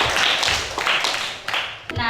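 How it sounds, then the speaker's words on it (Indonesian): Applause from a group in a classroom or presentation setting, a steady patter of many hands clapping, with a few louder claps near the end. "Beri tepuk tangan untuk Dinda."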